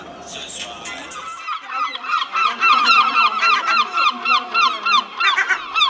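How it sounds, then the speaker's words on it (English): Seabirds on Ireland's Eye island off the Irish coast give loud, rapid honking calls in a repeated, overlapping chorus, close and continuous, with a quieter call at the start. "The soundtrack in Ireland's Eye switches between seabirds"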